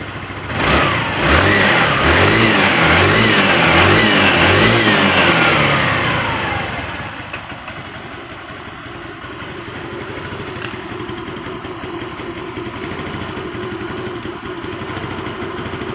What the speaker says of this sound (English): So let's go adjust this idle